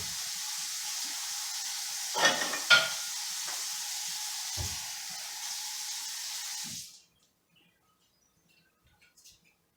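Kitchen sink tap runs steadily as water is collected for making cream cookie bites, a broad hiss broken by a couple of clunks, then cuts off abruptly near the end, leaving near silence.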